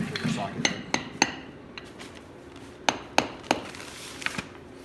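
Metal parts are driven into a go-kart's reverse gearbox with a hammer and socket during a motor and gearbox install, giving several sharp, close taps in small uneven bursts with quiet pauses between them.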